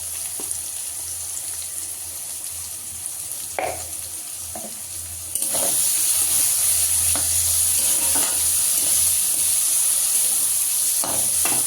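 Spices with turmeric and a little salt fried in oil for a chickpea greens dish, a constant sizzle that suddenly grows louder midway, with occasional spatula scrapes and knocks and no talking.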